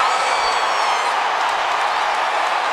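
A football stadium crowd at the 2015 Division II championship game between Northwest Missouri State and Shepherd roars after a turnover, a loud, sustained wash of cheering from a large crowd filling the whole moment.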